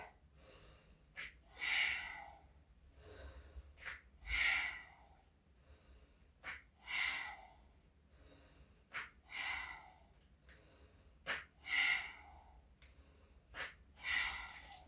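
Deep breathing during yoga lunges: slow, audible inhales and exhales repeat about every two to three seconds across the stretch, close and breathy, with no talking.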